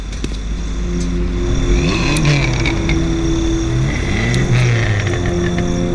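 A car engine in a video game revs repeatedly, its pitch climbing and falling in several loud, close sweeps over a low steady rumble.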